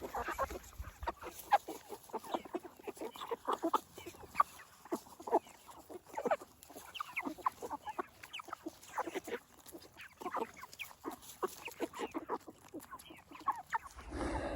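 A flock of chickens cluck and squawk busily up close while being fed, overlapping calls in quick irregular bursts with soft rustling underneath.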